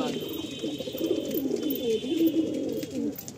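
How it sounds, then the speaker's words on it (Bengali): Pigeons giving low rolling coos nearby, a soft continuous warbling burble over a faint background. "বাহ, পুরো অ্যাক্টিভ হয়ে রয়েছে পায়রা।"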